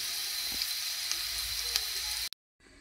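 Vegetable bhaji frying with onion in a pan, an even, loud sizzle that cuts off abruptly near the end, then resumes faintly.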